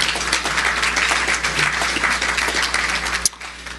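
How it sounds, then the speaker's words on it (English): Audience applause for a speaker at a chamber of commerce ports event, full steady clapping from a large crowd that stops abruptly near the end. "One more time, let's give him applause."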